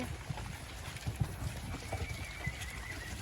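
Two mares pulling a cart clip-clop along at a slow, even pace, with soft irregular hoof knocks and the faint sound of the outdoor surroundings.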